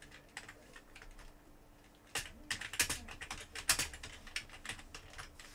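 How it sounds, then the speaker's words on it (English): Quick bursts of computer keyboard typing, faint at first and then a steady run of close, crisp key clicks and clacks for the last few seconds. "I'm just gonna type."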